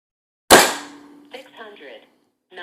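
One sharp, close shot from a Crosman Trail Hawk .177 Nitro Piston air rifle with a BSA scope, a crisp crack that fades quickly, followed by a short spoken reading.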